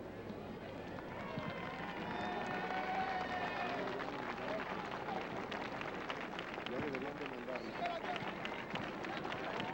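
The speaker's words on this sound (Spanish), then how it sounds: "Con este aplauso se daba la bienvenida a Juan Pablo II en el hangar presidencial" Sustained crowd applause welcoming Pope John Paul II in the presidential hangar in Mexico, a steady wash of clapping and cheering with voices mixed in throughout.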